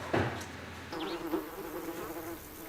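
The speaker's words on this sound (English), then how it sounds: "Down at Wakehurst, hanging meadows buzzing, and Steve's thigh-high in grass" Insects such as bees and flies hum through a summer hanging meadow at Wakehurst, a low steady buzz close by with a brief louder pass near the start, no voices.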